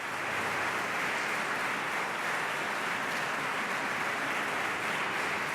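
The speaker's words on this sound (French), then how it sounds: "l'émotion est palpable et de longs applaudissements viendront saluer la prestation" A cathedral audience gives long, sustained applause after a vocal performance, a thick, even wash of clapping that stays loud and unbroken from start to finish.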